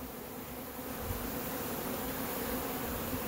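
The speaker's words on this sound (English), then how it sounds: "there's a whole mess of bees here." A dense, continuous buzzing of a swarm of honeybees fills the air, steady and close, with no voices.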